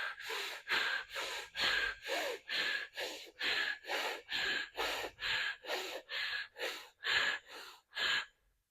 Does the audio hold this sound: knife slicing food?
no